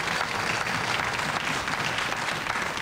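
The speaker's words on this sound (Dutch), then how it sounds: "En daar mag ik wel een applaus voor." Studio audience applause on a 1987 Dutch television show, steady dense clapping filling the whole stretch at even loudness, close and continuous with no voices over it.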